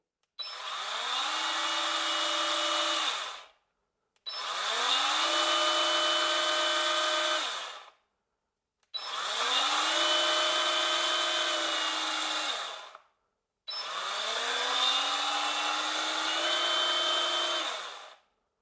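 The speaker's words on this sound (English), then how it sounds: "We'll go ahead and slide this on the saw, and we'll just power it on so you can hear it." Kobalt 24v cordless pruning saw triggered four times in a row, each a few-second burst of high motor whine with a rising pitch at start-up, separated by short silences, close and loud.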